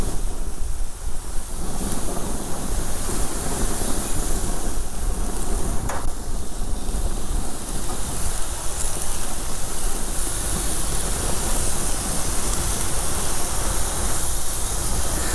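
Thin slices of barbecued pork sizzle steadily on a very hot grill, a dense, continuous hiss and crackle that stays loud and even throughout with no voices.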